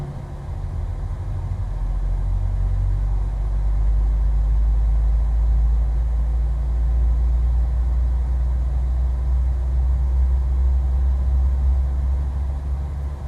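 Engine 1 of a PMDG 737-700 jet airliner starts up in Microsoft Flight Simulator, heard as a steady, heavy low rumble and drone that holds for over thirteen seconds without voices.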